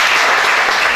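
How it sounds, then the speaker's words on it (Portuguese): A crowd applauding at a hip-hop peace talk, a dense, steady wash of clapping that fills the whole moment without any voices over it. "da Village merece uma salva de palmas também"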